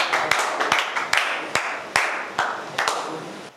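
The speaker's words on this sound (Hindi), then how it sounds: "जोरदार तालियां" A room of students gives loud applause for an SSC exam coaching teacher, steady clapping with sharp individual claps standing out, no talking over it.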